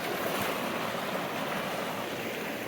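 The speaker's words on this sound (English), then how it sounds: "So we've got the river running here" A river runs around an inside bend of a creek, with a tributary flowing in, making a constant close rushing wash of water with no breaks.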